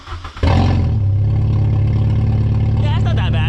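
A Volkswagen MK3 GTI engine with a newly fitted muffler starts up and revs, then settles into a loud, steady exhaust drone close by, with a voice briefly heard near the end.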